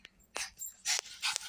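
Excited small dogs give short yelps and whimpers in quick bursts, close by and fairly loud, with no talk between the sounds.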